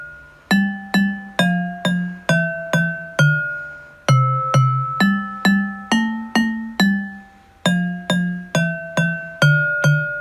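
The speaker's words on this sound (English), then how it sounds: "Xylophone." Xylophone notes struck one at a time in a steady rhythm, bright wooden tones with short decay, close and clear with no talking.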